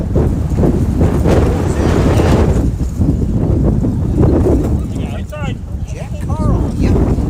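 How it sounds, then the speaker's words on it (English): A fierce west wind buffets a microphone at a high school baseball field, a loud rumbling roar that gusts steadily throughout while a voice talks over it. "We've got a wind coming out of the west. A pretty fierce wind, as a matter of fact."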